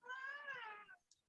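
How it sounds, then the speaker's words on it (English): A domestic cat gives a single close, clear meow lasting about a second, followed by a faint tick. "I'm sorry, that's my cat."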